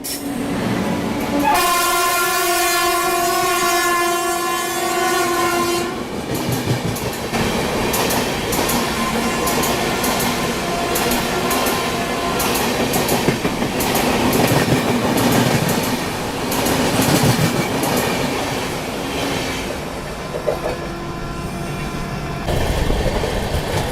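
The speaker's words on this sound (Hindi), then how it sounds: "गतिमान भी काफ़ी स्लो आ रही है।" A Gatimaan Express train passes slowly along the track. A loud horn blast opens the clip, then a steady, continuous rumble and rattle of the railcars rolls on without any talk.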